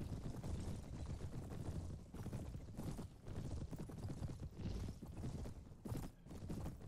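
Plate-armored Royal Guard cavalry on cataphract horses in the Mount & Blade video game, with dense, continuous hoofbeats of many horses thundering close and loud amid battle noise.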